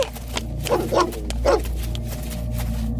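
A big, frightening dog barks in a few short, close bursts over a steady low hum, used as a sound effect in a spoken Filipino horror story about being chased.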